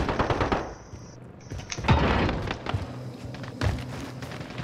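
Scattered gunshots and impact thuds in Call of Duty Modern Warfare, moderately loud, come in irregular bursts over game ambience, with a high steady tone early on.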